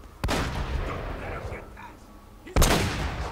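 Gunshots in Uncharted: Drake's Fortune, a sniper's fire among them: two loud, sharp cracks with longer tails, one at the very start and one later, with busy game ambience and someone talking in between.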